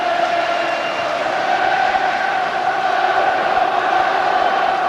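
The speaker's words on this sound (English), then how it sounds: "Well, the crowd there, still in full voice" A large football stadium crowd at a Scottish match, Kilmarnock against Falkirk, roars and chants steadily, a dense, sustained wall of voices and cheering with no pause throughout.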